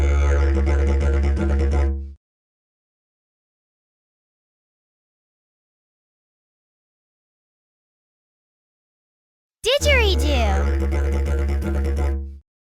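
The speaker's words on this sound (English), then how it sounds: "Didgeridoo." A didgeridoo plays in two separate bursts, a deep, buzzing drone with a rich overtone pattern, close and loud, separated by several seconds of silence, the second burst opening with a rising vocal-like whoop.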